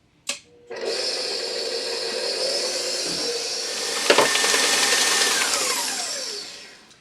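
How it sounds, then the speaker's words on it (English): An electric mixer beats gluten-free loaf batter for a strawberry lemon quick loaf, a steady close motor whine running alone for several seconds after a brief start, with a slight shift in pitch partway through. "That was about 60 seconds in the mixer"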